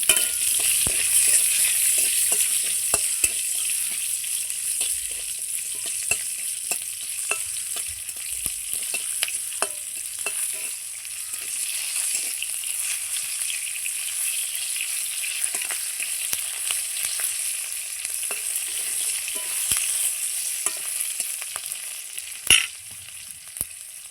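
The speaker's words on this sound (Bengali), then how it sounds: "ওই তেলেই আমি একটু পেঁয়াজগুলো ভেজে নিচ্ছি হালকা পরিমাণে" Onions fry lightly in oil left in a pan after cooking capsicum, a continuous bright sizzle with frequent small spatters, soft stirring taps and one louder clack near the end.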